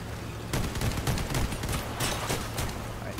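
Rapid bursts of machine gun fire from vehicle combat in the game Crossout, loud and sustained with dense overlapping shots and a continuous engine hum underneath, no talking.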